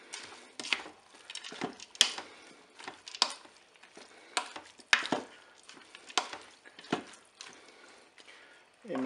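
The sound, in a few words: stirring peas and ingredients in a Cookeo pot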